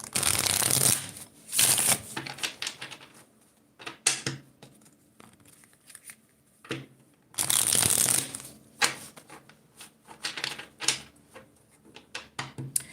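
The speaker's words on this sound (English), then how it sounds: "I do want to pull an angel card for the judgment." Angel oracle cards being shuffled by hand in bursts of crisp riffling and flicking, with quiet pauses between the close, fairly loud rounds and no talk.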